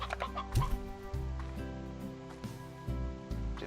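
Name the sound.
rooster clucking in Slime Rancher video game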